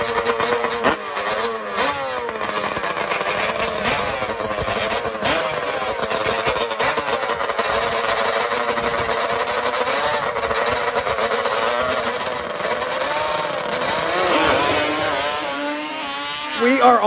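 Several Yamaha Banshee racing quad engines rev loudly and continuously, rising and falling in pitch as they accelerate around a racetrack, with a voice talking over the roar.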